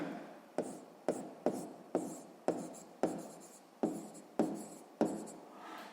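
A pen writes on paper in quick, separate scratching strokes, about ten short bursts in a fairly even rhythm, close and quiet, each starting sharply and fading, with no other sound around them.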